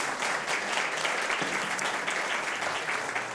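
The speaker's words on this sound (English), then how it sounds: "It's all right, give her a round of applause." A crowd at a Columbus mayoral candidate event claps for Dorothy Teeter, a dense, continuous burst of applause that stays loud and steady throughout without fading.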